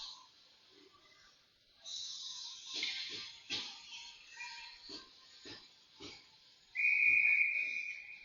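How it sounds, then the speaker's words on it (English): At a youth ice hockey game between U11 teams, a referee's whistle sounds several times, with a short loud final blast. Faint crowd and arena noise fill the background. "4 quick whistles."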